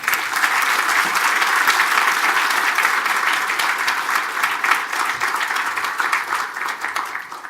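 An audience at the opening of the 2012 Asan China Forum applauds warmly to welcome Dr. Chung Mong-jun, a dense, steady clapping that fills the room and fades slightly at the end.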